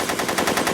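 Rapid machine-gun fire in a 2001 horror film, a fast, even burst of loud shots that repeats about every tenth of a second with no gaps.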